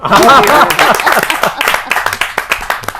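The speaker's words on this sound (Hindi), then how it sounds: "कविता खत्म हो गई, ताली बजाओ।" Applause from an audience at a Hindi poetry gathering as a poem ends: a voice at the start, then a dense burst of clapping that thins into scattered, sharp claps over about three seconds.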